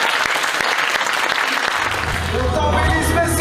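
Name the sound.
audience applause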